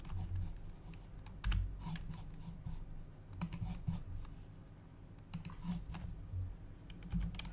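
Keys clicking repeatedly on a computer keyboard, likely arrow keys, tapped in short irregular bursts at close range with quiet background hum and no talking.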